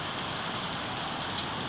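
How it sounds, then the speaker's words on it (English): Steady dense hiss of heavy rain or hail pouring down, continuous and fairly close throughout with no voices. "There's just so much getting inside right now. It's hail, I think, or snow."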